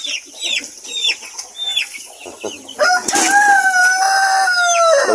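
Chickens on a farm cluck and call near the mic, with chicks among them, then a rooster crows loudly in a long drawn-out call that fills the last two seconds.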